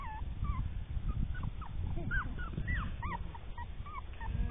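Several puppies in a basket whimpering and yipping, high wavering whines and squeaks overlapping close by over rustling and low background noise.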